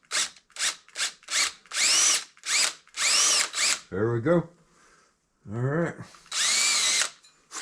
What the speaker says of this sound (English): this is a brand new, never before used, very sharp drill bit, so it's going to cut